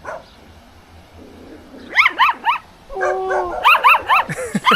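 A puppy lets out a run of high yips, barks and whimpers, close and loud, rising in quick bursts toward the end, with a brief exclamation from a person.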